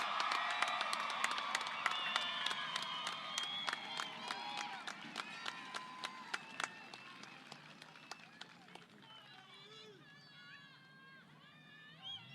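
Graduation audience at the Patriot High School 2021 ceremony applauding: dense rapid claps and scattered cheers that fill the hall, loudest at first, then thinning and fading under a murmur of voices toward the end.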